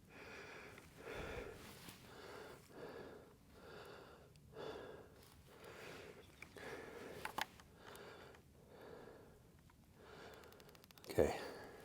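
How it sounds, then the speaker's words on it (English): Heavy, labored breathing from a rider after a hard push on a Velotric Summit 1 e-bike, with repeated rhythmic gasps, sniffs and exhales close to the mic, fairly quiet with a sharper burst near the end. "Sorry about the heavy breathing."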